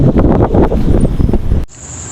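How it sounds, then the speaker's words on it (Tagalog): Strong wind buffets the microphone in loud, gusting roars, then cuts off abruptly, leaving a quiet high-pitched tone. "Sobrang lakas ng hangin dito"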